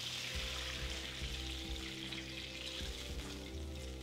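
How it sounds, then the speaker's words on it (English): Beef stock au jus with red wine simmers in a pan, giving a soft, steady bubbling sizzle that runs continuously at low volume. "Our au jus is now simmering."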